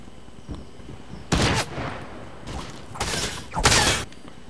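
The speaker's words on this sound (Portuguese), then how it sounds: "Ele tá atirando em mim, cara." Gunshots in Fortnite crack out in a few loud separate bursts and short volleys over steady game ambience, with no talk.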